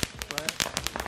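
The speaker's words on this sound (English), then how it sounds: "Were you afraid when he threw the firecracker your way?" Firecrackers pop in a rapid string of sharp, close cracks during a backyard Fourth of July fireworks fight, bursting irregularly about a dozen times within a second.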